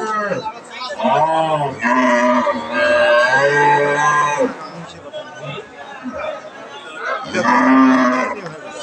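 Cows at the traditional Kaharol cattle market in Dinajpur give several loud, close, drawn-out moos, two long calls and a final one, over the low chatter of the crowd around them.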